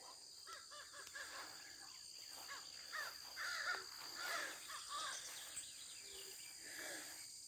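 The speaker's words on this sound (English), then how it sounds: "the crows are very talky and chatty in that tree" Crows caw repeatedly from nearby, harsh calls rising and overlapping against a steady background of insects and faint birdsong.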